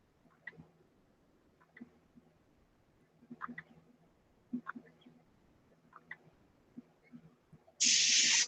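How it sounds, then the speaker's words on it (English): Spray paint hisses onto a model aircraft fuselage in one short, loud burst at the very end, after a stretch of quiet handling clicks and taps. "I've only sprayed the fuselage back to the trailing edge."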